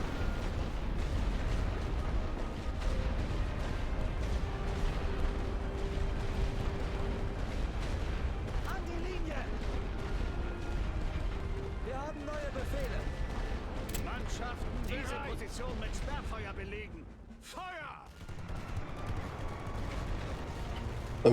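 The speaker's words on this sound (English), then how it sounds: "I'm going to start weakening them with my heavy artillery" Heavy artillery barrage in The Great War: Western Front, a continuous low rumble of distant shelling and explosions under game ambience, steady throughout with a brief dip near the end.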